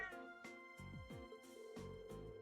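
A cat meows several times in the video game The Legend of Heroes: Trails of Cold Steel, short quiet calls set over soft game music.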